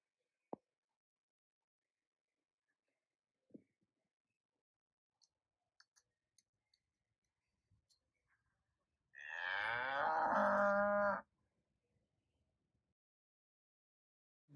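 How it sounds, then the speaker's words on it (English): A recorded cow gives a single long, loud moo lasting about two seconds, standing alone against near silence broken only by a few faint clicks. "Here are the moo cow sounds."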